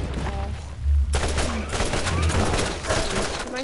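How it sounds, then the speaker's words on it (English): Bursts of shotgun fire in the Borderlands video game, loud and close, several blasts over dense game noise with a voice murmuring underneath. "My shotgun."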